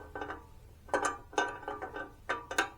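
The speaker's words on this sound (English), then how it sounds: "I went to tighten it down with my 3/8" A 3/8 ratchet tightening bolts on a 1960s Bolens Suburban 26 lawnmower, ticking in short bursts of quick clicking strokes with brief pauses between, close and fairly quiet, with no speech.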